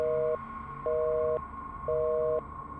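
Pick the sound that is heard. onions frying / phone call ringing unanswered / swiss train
phone call ringing unanswered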